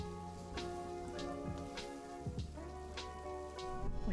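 Rain from the game Spirit City: Lofi patters steadily and softly, mixed with gentle tonal music, with no voices over it.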